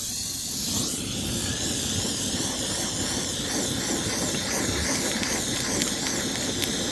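A hot torch flame roars steadily over silver and copper melting in a crucible, a continuous broadband hiss with a low rumble, loud and close, with no talk.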